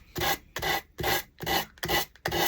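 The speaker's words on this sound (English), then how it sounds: "it's fine to go ahead and use the finger sander on it" A finger sander runs against a thrifted wooden piece in six steady back-and-forth passes, each a close, raspy scrubbing burst separated by short pauses, with no voices.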